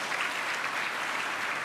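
An audience at a symposium applauds steadily, a dense even patter of many hands clapping that holds at one level through the whole stretch with no voices over it.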